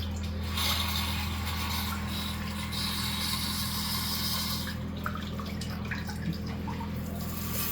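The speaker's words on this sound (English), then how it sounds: "if you hit the bottom wash, this one right here" Water sprays from the bottom-wash nozzle of an iCleaningo DC02 bidet seat as a steady, close hiss that runs unbroken, with slight shifts in intensity.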